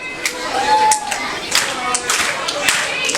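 A wrestling crowd at a PW4U independent show claps and cheers steadily throughout, the rhythmic clapping carried under a commentator's voice.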